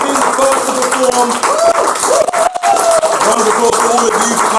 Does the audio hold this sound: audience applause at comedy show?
yes